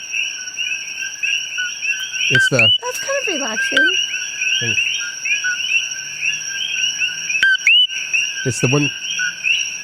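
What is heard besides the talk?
coqui frogs croaking and chirping at night in Hawaii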